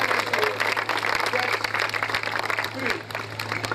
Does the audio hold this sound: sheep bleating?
no